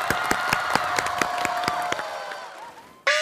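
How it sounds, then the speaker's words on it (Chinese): Studio audience bursts into steady rhythmic clapping to welcome a Peking opera performance of a Dingjunshan excerpt, sharp claps repeating over a crowd wash before fading, then a singer's sustained voice cuts in at the end. "来，我们掌声欢迎哦"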